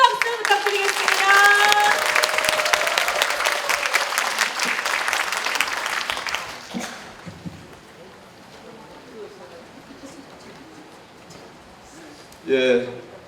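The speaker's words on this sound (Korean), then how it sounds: "유경기 구청장님 오신데 큰 박수 부탁드리겠습니다." Hall audience breaks into sustained applause for the arriving district mayor at a political lecture event, dense clapping for about six seconds before fading into murmuring room noise, with a brief louder burst near the end.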